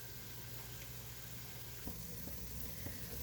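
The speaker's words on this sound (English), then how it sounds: "My onions have been cooking for about 20 minutes now." Onions that have been cooking about twenty minutes sizzle steadily in a pan, a soft continuous frying hiss with a few faint stirring clicks, quiet and close with no voices.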